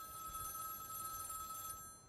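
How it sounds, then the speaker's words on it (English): A telephone ringing in the VR game The Red Stare: a steady electronic bell-like ring held for about two seconds at moderate level, then cutting off, with no talk over it. "And this phone tends to ring quite a lot."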